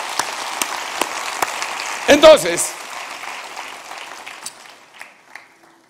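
A church congregation at a midweek service claps, scattered hand claps at first, then a brief burst of voices with someone speaking over it before the clapping thins and fades.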